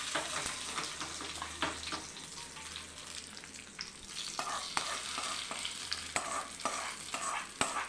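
Curry leaves stirred into a simmering chickpea and potato stew with onion and green chilli, giving a steady close sizzle with scraping spoon strokes throughout, no voices.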